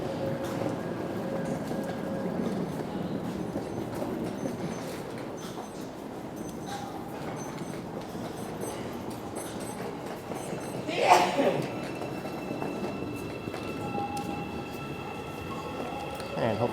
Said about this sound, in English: There's the next train.